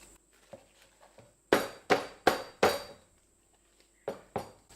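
A frozen block of homemade ice cream knocked loose from its pan: a few light taps, then a run of four loud, hollow metallic bangs close by, and two more knocks after a short pause.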